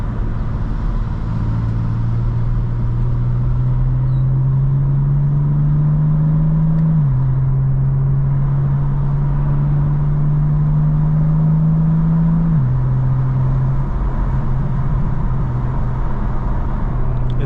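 A stock 2025 BMW M4 CS cruises a Florida highway, its engine a steady, loud drone that climbs in pitch through each gear and drops twice at upshifts, with road rumble underneath and no talking.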